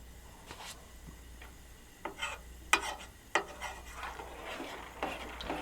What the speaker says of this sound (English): Stir that up a little bit, get a little ASMR going in here